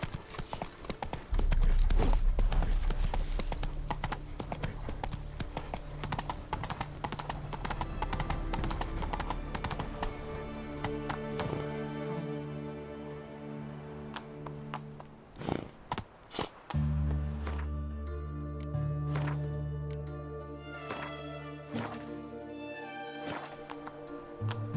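Roach, the horse in The Witcher 3, gallops with rapid rhythmic hoofbeats over a game music score, the pounding easing then picking up again, with a brief whinny.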